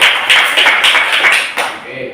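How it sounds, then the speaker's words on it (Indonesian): A class of students clapping hands in a classroom at the end of a lesson, a short burst of close, loud rhythmic clapping that fades out after about two seconds. "tepuk tangan dulu sudah bahas semuanya ya."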